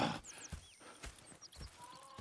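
Horse sounds in the video game Red Dead Redemption 2: a whinny and snorts with a few hoof clops, over a busy outdoor background.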